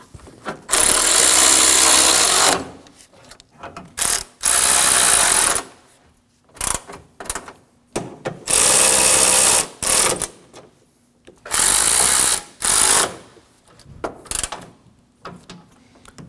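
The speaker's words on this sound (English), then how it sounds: "Now we can go around the core support and snug down all of our 10 millimeter bolts." Power ratchet snugging down 10 millimeter bolts on the core support of a 2016-2022 Honda, loud close whirring bursts of a second or two repeated about six times with short gaps between them.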